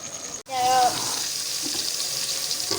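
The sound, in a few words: onions frying and browning in a pan for chana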